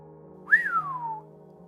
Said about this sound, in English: I whistle.